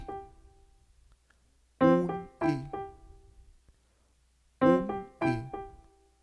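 Piano plays the first movement of Mozart's Sonata No. 1 at a slow practice pace, with two pairs of struck chords separated by quiet pauses, clear and close with no voices.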